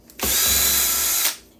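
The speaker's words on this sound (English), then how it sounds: "I just bought two new screwdrivers and batteries here." A new cordless power screwdriver gives a single short burst of high-pitched whirring at close range, with a sharp spin-up and quick wind-down, and no talk.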